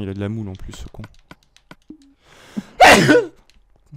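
A single loud, close sneeze bursts out near the end of a short stretch of French conversation, with faint keyboard clicks in the background.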